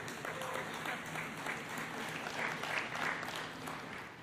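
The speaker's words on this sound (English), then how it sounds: "I don't deserve the applause" Sustained applause from an audience filling a general assembly hall, a steady dense wash of clapping that holds at an even level for several seconds.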